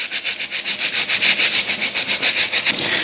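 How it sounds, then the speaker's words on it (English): A heavy scrub brush scours dirt and lichen off hickory tree bark in fast, even back-and-forth strokes, a loud rasping scratch pulsing about six times a second, close and alone without any talking. "I took a heavy scrub brush, and we're just gonna do a nice hefty scrub."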